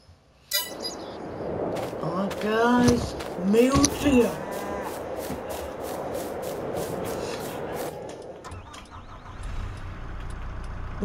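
Cows moo in the farming video game Farming Simulator 22: several drawn-out, fairly loud bovine calls cluster in the middle, over steady farmyard ambience with occasional clanks.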